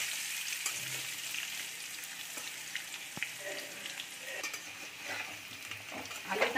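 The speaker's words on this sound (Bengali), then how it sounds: "আলুটা আমি একটু লাল করে ভাজবো" Potatoes fry in a pan for a vegetarian dish, a soft continuous sizzle with occasional stirring scrapes and small clinks, fairly quiet and close.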